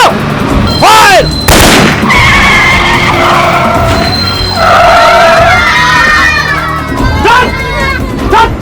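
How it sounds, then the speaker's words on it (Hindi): A vehicle skids after gunfire punctures its tyres in a crime drama: loud gunshot bursts, then long wavering tyre squeals and screeching slides, with shouting voices over the chaos. "सालों ने गाड़ी के टायर पंचर कर दिए।"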